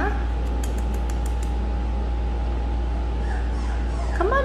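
Mini goldendoodle puppy howling and whimpering indoors, thin high yips and whines breaking through a steady low fan hum, with a longer rising whine near the end.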